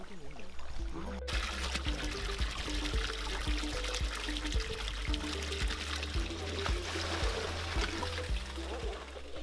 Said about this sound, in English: he is immediately changing the water to let the koi get used to the new temperatures of the pond